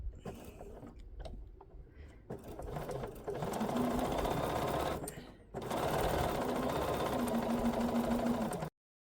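A sewing machine stitches fabric squares down a marked center line for half square triangle quilt blocks, whirring steadily in two close, loud runs separated by a brief pause.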